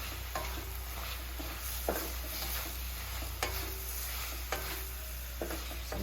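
Chicken sukka fries in a pan as chili powder is stirred in: a constant sizzle broken by periodic scraping strokes of the spoon against the pan, with no speech.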